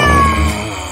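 A cat lets out a single drawn-out meow, loud and close, fading toward the end.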